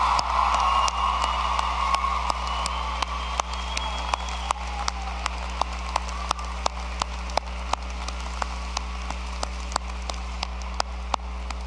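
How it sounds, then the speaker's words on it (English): Graduating college class applauding at a 2012 commencement ceremony, a steady, distant patter of many hands clapping across a large hall, sustained evenly with scattered sharper claps and a low hum underneath. "please rise and join me in a round of applause to honor those who helped you"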